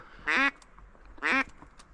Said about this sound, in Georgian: აქ ზევით, ბიჭო, დიდი იხვია ზევით